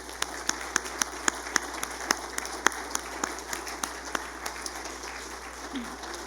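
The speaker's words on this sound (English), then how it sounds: "Let's honor these ladies with our applause." Church congregation applauding mothers and female role models at a Mother's Day service, sparse, separate claps spaced through the room over a low hum, tapering off near the end.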